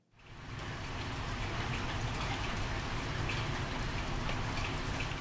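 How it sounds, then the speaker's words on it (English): Steady rain pours down at night during a curfew with no traffic, recorded from a hotel room, in a dense, even hiss of drops, fading in at the start and continuing without pause. "listen to the rain sound that I've recorded last night during the curfew."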